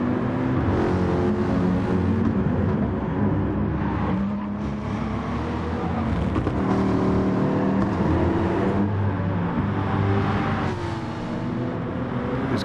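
A Mercedes AMG SLS Gr.3 race car at Fuji in Gran Turismo Sport closes in from behind, its loud engine whine rising and falling through gear changes over a continuous roar of racing engines.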